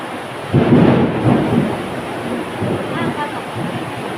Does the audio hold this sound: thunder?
yes